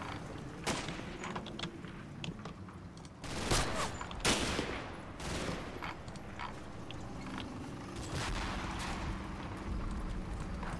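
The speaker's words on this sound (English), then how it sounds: "And it looks like Titan's trying to mortar the front again." Video-game combat on a front line with mortar fire: repeated sharp blasts and bursts of gunfire over a steady rumbling background, moderately loud with uneven spacing and no voices.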